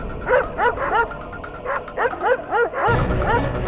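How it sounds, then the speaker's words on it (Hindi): Dogs bark in quick bursts of yips and bow-wows, close and fairly loud, with short pauses between clusters and a whimper-like tone, no talk over them. "कुत्तों का भौंकना बंद"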